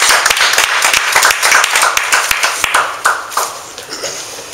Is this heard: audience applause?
yes